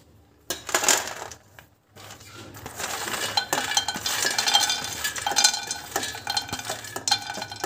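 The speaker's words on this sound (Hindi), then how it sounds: "अब हम इसके अंदर डालेंगे मखाने।" Fox nuts (makhana) tipped into a kadai and stirred while dry-roasting, a steady rattle and clatter of light pieces scraping against the metal pan, close and fairly loud, with a brief pause near the start.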